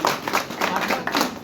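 At an honour ceremony, audience members clap in quick, uneven bursts, a close and fairly loud patter with no talking over it.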